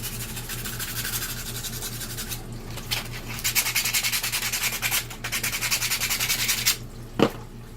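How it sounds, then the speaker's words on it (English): Hand sanding and filing of a 3D printed repair part for a Sea-Doo: repeated raspy back-and-forth strokes, close and fairly quiet, in an uneven rhythm with a few sharper scrapes, over a faint steady background hum. "A little bit of sandpaper and a file"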